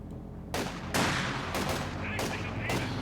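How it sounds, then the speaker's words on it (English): Sniper rifle shots in a WWII strategy video game ring out as about five loud, sharp cracks at irregular intervals, each trailing into a rumbling battlefield din. "Sniper fire!"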